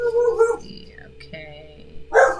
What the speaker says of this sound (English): the dog is barking at something because she apparently hates it